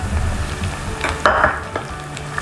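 Small onions, garlic, green chilli and ginger sautéed in a pan for a Kerala toddy-shop fish curry, a low continuous sizzle with a few brief spoon scrapes and clinks nearby.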